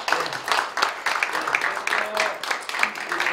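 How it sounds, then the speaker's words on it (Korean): An audience at a Korean mission forum claps in welcome for a guest, with a lively wash of mixed claps. Voices murmur and call out underneath throughout. "우리 박수로 한번 환영하십시오."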